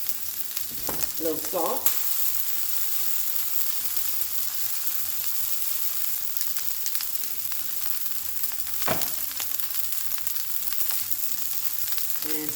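Cauliflower sautés in butter and garlic in a pan, a steady close sizzle and crackle running throughout with occasional stirring clatter, while a voice speaks briefly over it.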